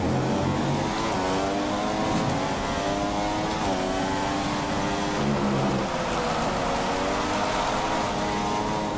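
Formula 1 cars in the F1 2015 racing game at the Malaysia round, a loud continuous high engine whine with several cars' tones rising and falling together while overtaking, steady throughout.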